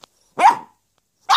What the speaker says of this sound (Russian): Ой, какая злая собака.